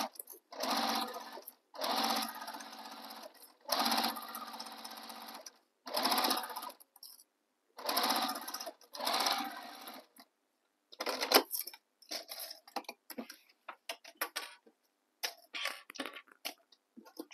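A sewing machine stitches a tote bag together in several loud bursts of running stitches separated by short pauses, followed by lighter clicks and handling noises near the end.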